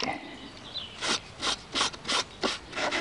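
Six rhythmic, close scrubbing strokes come from a scouring sponge rubbed over the inside of a garden watering water pump being cleaned. Each stroke is an even, raspy swish with short gaps between.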